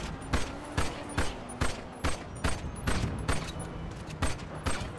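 Eleven ceramic pistol shots in GTA Online, crisp individual cracks fired at a steady, slightly uneven pace of about two per second, each with a brief ringing decay over a low background tone.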